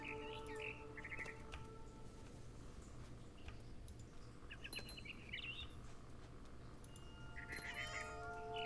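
A cat in the video game What Remains of Edith Finch gives several short, high meows and chirping calls spread across the span, mixed with bird chirps over a low steady background hum.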